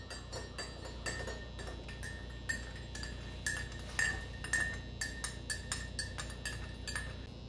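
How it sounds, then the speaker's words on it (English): A spoon stirs black tea in a cup, giving soft, irregular clinks of metal on ceramic that come quietly and close, with no voices. "Okay, and then you're gonna just stir it up."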